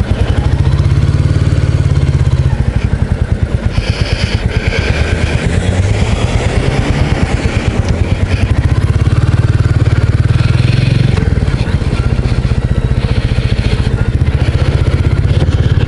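A 2024 Royal Enfield 350 Bullet single-cylinder engine thumps steadily while riding, loud and close throughout, with rhythmic low-end pulses and rises and dips as the throttle changes, plus wind buffeting.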